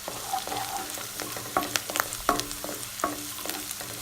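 Ginger garlic paste sizzles in hot oil in a pan for a potato kurma, with steady frying crackle and several sharp scrapes and clinks from stirring, close and fairly quiet.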